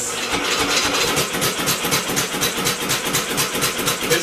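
A compressor engine cranking over to start, a steady, rapid mechanical chug with a rhythmic pulsing beat, loud and close, running continuously throughout with no talking.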